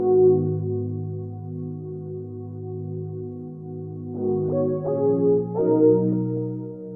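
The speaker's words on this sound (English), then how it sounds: "So I went ahead and used Pad 6, and then this is what it sounds like by itself." A soft synth pad preset, Pad 6, plays alone in a trap soul beat, holding warm sustained chords that shift to new notes near the end, smooth and mellow with no voices.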